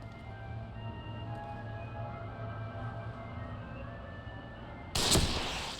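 A single sharp gunshot in the horror video game The Evil Within, firing suddenly and loudly after several seconds of low droning background.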